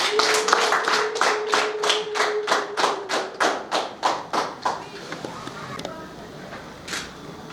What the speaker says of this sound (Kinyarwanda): Mwongere mu amashyi menshi ni mwe.